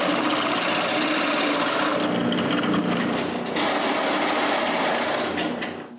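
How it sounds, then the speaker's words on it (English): A drill boring counterbore screw holes into wood for small round boxes gives a continuous, gritty, rasping whir up close, with a slight change in pitch midway. "I drill a counterbore hole for the screw."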